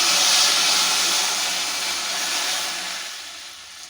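Hot garlic and ginger tempering hits a pot of dal makhani with a loud, close, steady sizzling hiss that slowly fades over a few seconds, with no talk over it.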